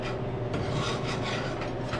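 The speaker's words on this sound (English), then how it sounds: "You can maybe see how aggressive this file is." Coarse metal file beveling the edges of a steel block, a continuous close harsh rasping of steady back-and-forth strokes with no talking.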